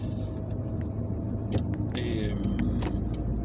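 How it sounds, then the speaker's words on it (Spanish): A car engine warming up on a cold day, heard from inside the car as a steady low rumble with light clicks and interior noises over it. "Ahora está empezando a calentar el motor"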